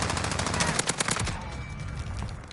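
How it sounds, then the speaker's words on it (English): Rapid bursts of automatic gunfire in a video game, loud and close, crackle in quick succession for over a second, then fade into a quieter rumbling tail with no voices. "Bro, pal, quit shooting at me, you fucking dweeb."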